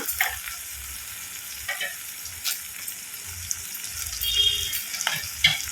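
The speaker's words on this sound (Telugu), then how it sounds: "ఇందులో ఆల్రెడీ కడిగి పెట్టుకున్న రొయ్యలు వేయాలండి, ఆయిల్లో మగ్గుతాయి." Washed prawns frying in oil with green chilies, giving a soft, steady sizzle with occasional stirring clinks and scrapes, close by and without talk.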